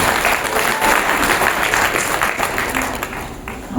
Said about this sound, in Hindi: मैं सर्वप्रथम आप सभी से एक बार विनम्र निवेदन करूंगा कि उनके लिए जोरदार तालियों